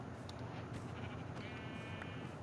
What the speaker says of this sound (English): Oh, there's another sheep.